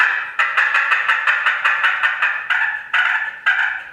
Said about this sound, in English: a little more deep, more resonant hen,